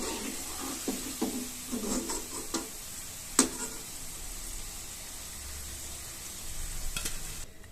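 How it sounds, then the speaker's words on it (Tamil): Cauliflower pieces deep fry in hot oil for cauliflower 65, a steady low sizzle with a few light clicks and one sharp tap of a utensil against the pan. "இப்போ இதே மாதிரியே எல்லாத்தையும் பொரிச்சு எடுத்துக்கலாம்"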